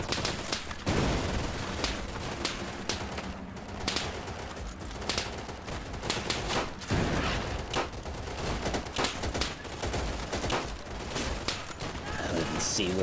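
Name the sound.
gunfire in video game Easy Red 2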